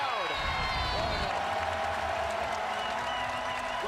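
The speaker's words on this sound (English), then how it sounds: "But listen to the crowd." A basketball arena crowd cheers and roars throughout a college game between Alabama and Florida, a loud continuous wall of noise with squeaks and a commentator's voice over it.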